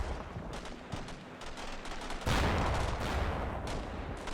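Gunfire in a PVP war video game, rapid bursts of shots from several weapons crackling continuously, growing denser and louder midway, with no talking.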